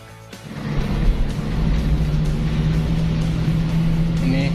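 An old 1970s Toyota Corolla KE20 drives along with a steady, moderately loud engine drone and road rumble, heard from nearby without talk.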